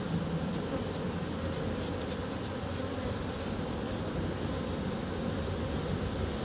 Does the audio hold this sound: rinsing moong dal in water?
no